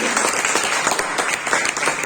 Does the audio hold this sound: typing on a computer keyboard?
no